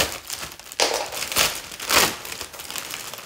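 A plastic bag holding Scentsy wax bars crinkles and crackles as it is cut open, with three louder rustling bursts in quick succession close to the microphone, no talk over it.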